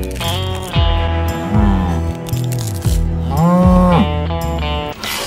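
Cows moo repeatedly on a dairy farm, several long, loud, close lowing calls overlapping one another and rising and falling in pitch, with no talking.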